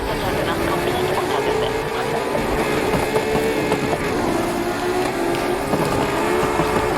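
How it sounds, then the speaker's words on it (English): A loud car engine in Need for Speed Heat roars steadily throughout, a dense continuous rumble with slight shifts in pitch, and no pauses. "Damn, this car is loud."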